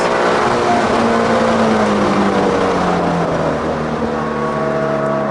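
A Shelby GT350R roars along the Road America track, its engine droning loud and steady as it pulls under throttle, pitch sweeping gradually with the revs.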